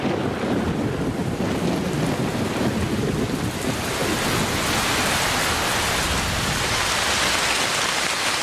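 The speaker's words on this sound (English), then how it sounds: "By the end of December, the rains have arrived with full force." Heavy tropical rain pours steadily over the Amazon rainforest in the wet season, a dense, continuous hiss of downpour on foliage and surfaces with no distinct thunder, loud and unbroken throughout.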